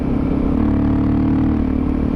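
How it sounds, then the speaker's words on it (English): A Suzuki DRZ 400SM single-cylinder motorcycle with a Yoshimura exhaust runs steadily up close, its loud, throaty engine note holding a continuous drone with no speech over it. "The Yoshimura just allows that engine to breathe and speak for itself."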